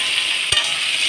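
Cut potatoes fry in a pan with a steady soft hiss, broken once by a single brief clunk of a spoon stirring against the metal.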